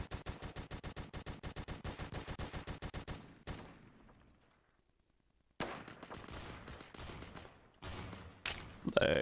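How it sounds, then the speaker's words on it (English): Rapid automatic gunfire in a shooter video game, a loud, evenly spaced burst of shots, then a pause before more bursts return more irregularly. "Three shots, maybe four."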